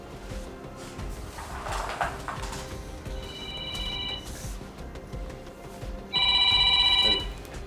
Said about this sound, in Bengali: স্যারের ফোন দিচ্ছে।